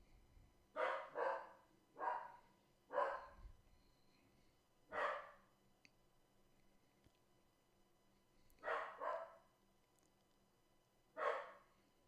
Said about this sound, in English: I don't know what my dog's barking at.